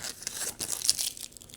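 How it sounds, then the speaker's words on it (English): Protective film peeled off the screen of a new Nikon ZR camera, a short crinkling, tearing rustle close up, quiet and alone. "So here is the screen peel."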